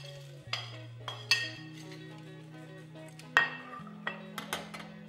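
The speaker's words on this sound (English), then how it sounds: "Give that a stir." A spoon stirring beef and bacon stew with bay leaves in a pot: a few distinct clinks and scrapes against the metal over a low steady hum, close and fairly quiet, with no voices.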